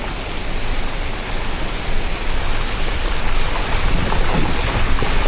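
A mountain river rushes beside the road to Muktinath in Mustang, Nepal, a loud, continuous broadband roar of turbulent water that stays steady throughout with no talk.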